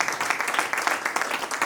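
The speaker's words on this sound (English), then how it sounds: "We can clap for our excellence." An audience of women at a trade and industry gathering in Nakuru, Kenya, claps together in steady applause that fills the room with dense, even patter for a couple of seconds.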